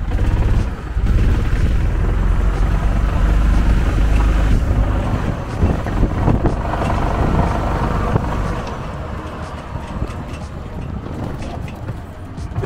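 A 2023 EZGO Express S4 gas golf car climbs a wet grassy hill, its small engine humming steadily under heavy wind buffeting on the microphone, easing slightly in the latter half.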